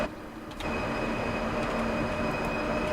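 A train runs along the track in the Train Sim World 3 video game, with continuous rolling rail noise and a faint high whine. A brief quieter moment comes first, then steady rumbling follows.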